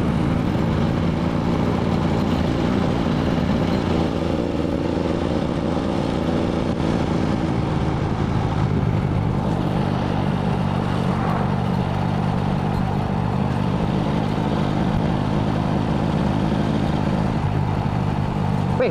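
A motorcycle engine drones steadily while riding on a road, with constant rushing wind noise buffeting over it at close range, unbroken throughout.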